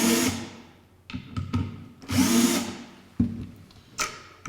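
A power drill runs in three or four separate bursts on rifle hardware, loosening screws; each whirring burst rises and fades, with brief pauses between them and no talking.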